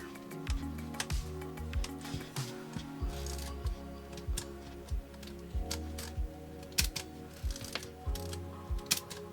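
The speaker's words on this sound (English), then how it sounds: "You can wind this thing. This is self timer" Self-timer of an Olympus 35 SPN film camera whirring as it runs down, a close, steady mechanical buzz broken by sharp ratchet-like clicks at an even rhythm over about nine seconds.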